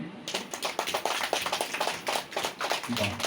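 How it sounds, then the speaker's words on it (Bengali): An audience at a children's school program claps hands, a steady patter of many hands close by and fairly loud, lasting a few seconds with a voice briefly heard alongside. "সবাই হাততালি দিন"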